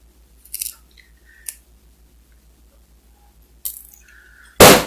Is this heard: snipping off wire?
yes